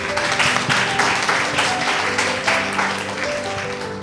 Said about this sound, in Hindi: एक बार क्लैपिंग